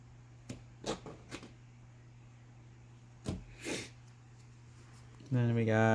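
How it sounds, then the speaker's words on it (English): A person sneezes during a tabletop board game night: a few sharp, short bursts come early and two more follow a couple of seconds later, against a quiet room with a low steady hum and a tonal sound at the end. "Hold on, I'm sneezing."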